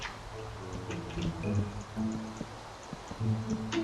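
Rain in the Minecraft video game makes a faint, steady hiss of falling drops that carries through quiet background game sounds.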